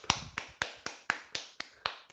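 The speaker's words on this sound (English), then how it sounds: "Let's have a big clap." Eight sharp hand claps in a steady, evenly spaced rhythm, close and crisp, with no talking.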